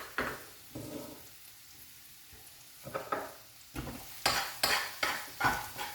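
Onions sizzling in a pan at the start of a celery and chorizo risotto, with soft frying hiss broken by repeated scraping stirs that grow louder and quicker toward the end.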